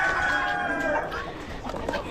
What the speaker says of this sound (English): Got some silver duckwing Old English. Some roosters there.